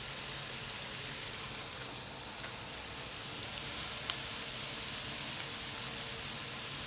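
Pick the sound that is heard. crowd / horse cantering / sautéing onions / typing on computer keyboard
sautéing onions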